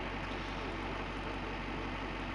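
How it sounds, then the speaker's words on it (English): A 1984 Blue Bird Wanderlodge motorhome's engine idles evenly throughout, a smooth continuous low rumble with no changes in pitch and no voices. "So that's the engine. Idling, smooth, running."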